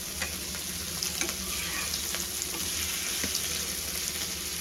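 Fish frying in a pan gives a steady, close hiss of sizzling oil with faint crackles and pops scattered throughout, no voices.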